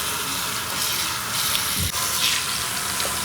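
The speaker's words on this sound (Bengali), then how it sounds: "পালং শাকগুলো ভালো করে গরম জল দিয়ে ধুয়ে নিয়েছি" Spinach leaves being washed in hot water in a kitchen, a steady running gush of water with soft splashing as the leaves are handled, close and continuous, no voices.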